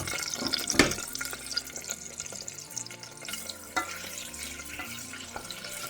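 Cherries hit hot ghee in a pot and sizzle with a steady wet crackle and bubbling, close by, with an occasional clink from the pot.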